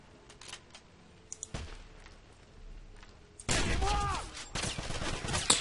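Gunfire in the shooter game Wolfenstein: a few scattered single shots at first, then loud, sustained rapid bursts dominate the second half, with no talk over them.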